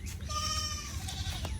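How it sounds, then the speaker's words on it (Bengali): A goat bleats once in a long, wavering call that sits close and clear over a low rumble of background noise. "আমার ছাগল কই গেল"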